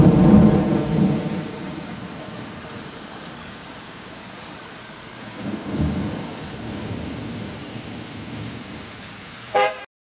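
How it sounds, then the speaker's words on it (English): A thunderstorm: a heavy rumble of thunder opens, rain hisses steadily throughout, and a second, weaker roll of thunder swells about halfway through. A brief sharp sound comes just before the end. "drag our input audio file, which is a thunderstorm, into this field"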